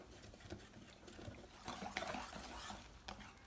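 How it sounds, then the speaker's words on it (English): A whisk beats tempura batter of two eggs and mineral water in a bowl. The whisking sounds as a soft, continuous scraping swish that swells slightly partway through. It is faint and close, with no speech. "I'm just going to whisk it up"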